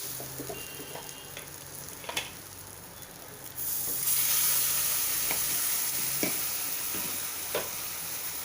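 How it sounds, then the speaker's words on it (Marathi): Tomato puree goes into roasted gram flour in a hot pan with bay leaf and curry leaves, and after a few quiet taps a loud, steady sizzle rises and carries on without talk. "आता टोमॅटोची प्युरी घालायची आपल्याला।"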